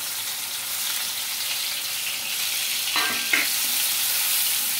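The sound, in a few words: onions frying in oil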